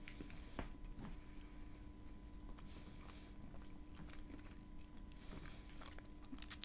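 Quiet, close crunching as brittle kaolin clay from Azov is bitten and chewed, with small crackling bursts repeating over a steady low background hiss.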